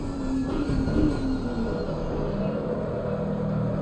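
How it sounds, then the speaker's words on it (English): Race car tyres lock up under ABS braking in Assetto Corsa Competizione at Kyalami, a brief tonal squeal over the steady engine and road drone of the game audio. "you can hear the tires there just kind of locking under ABS"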